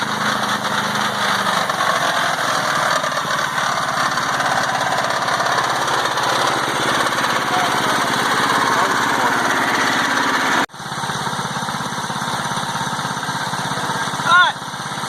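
Small Predator 212 gas engine fitted in a converted EZGO Marathon golf cart runs steadily at a loud, buzzing, near drone throughout, with a brief dip near the end; a voice is heard alongside.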